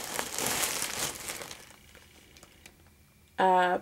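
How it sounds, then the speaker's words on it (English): Wrapping or packaging crinkles in a quick, close rustling burst for about a second and a half, fading into quieter scattered rustles, with a brief voice at the very end. "Crinkling."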